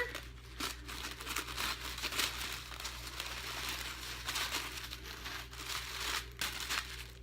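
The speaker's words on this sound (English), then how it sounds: "So let's pull back the sticker." A sticker is peeled back from a subscription box with a steady crinkling, tearing rustle that runs almost the whole time, close and quiet over a low constant hum, with no talking.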